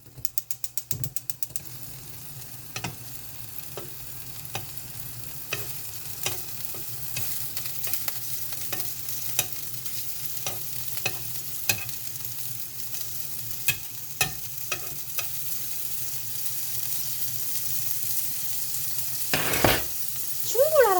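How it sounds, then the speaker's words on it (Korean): Chicken breast frying hard in oil poured into a hot pan, a steady close sizzle under occasional clicks and clanks of tongs or utensils, with a louder clatter near the end. "기름이 다 들어가가지고 지금 막 튀기고 난리 났습니다"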